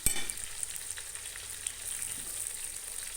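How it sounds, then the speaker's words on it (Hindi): Onions with garlic, ginger, salt, lemon and green chillies sizzle softly and steadily in a pan close by, with a faint crackle throughout and no voices. "कम से कम जो है 5 मिनट मुझे हो चुके हैं इसे भूनते हुए"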